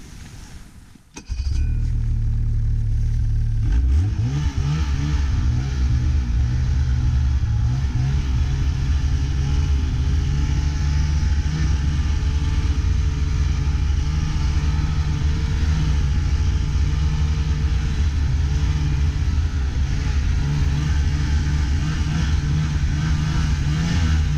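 A car engine hums steadily as the vehicle drives along a road in avalanche country, starting after a brief door-like clunk and then holding a loud, continuous low rumble for over twenty seconds with no talk.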